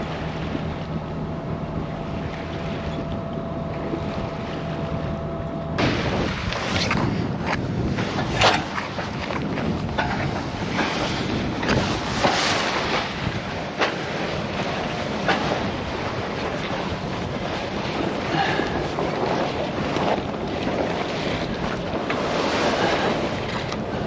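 A sailboat getting underway from a shipyard, with steady broadband wind rush and wave wash that intensifies after a few seconds and continues loud and even throughout, broken by occasional knocks and bumps.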